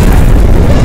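A massive booming explosion from dropping bombs fills the moment, a loud, dense, continuous low-heavy roar with no break or talk.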